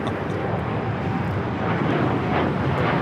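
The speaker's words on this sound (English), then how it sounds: "1855 taking off to Newark on the 787-10 Dreamliner." A United Airlines Boeing 787-10 Dreamliner takes off at Los Angeles airport, heard as a dense, steady roar of jet engines mixed with wind buffeting, loud and continuous throughout.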